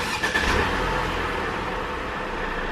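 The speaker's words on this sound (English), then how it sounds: "So now we're going to start her up," A new four-wheel-drive car's engine turns over and settles into a low, steady idle rumble, heard close with a brief burst at the start of the start-up.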